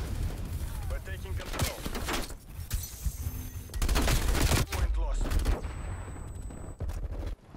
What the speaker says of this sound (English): they are shooting me a lot